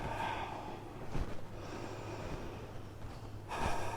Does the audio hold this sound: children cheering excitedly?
no